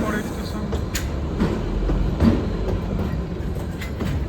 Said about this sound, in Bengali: 12কে 5 মিনিট দাঁড়াবে ট্রেন।